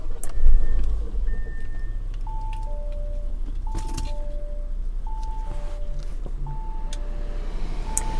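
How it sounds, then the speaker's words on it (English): Buttons click inside a 2021 Audi A4 Allroad Premium wagon, light sharp taps scattered among repeating electronic beep tones over a low steady cabin hum. "All of the buttons make this sweet little clicking sound"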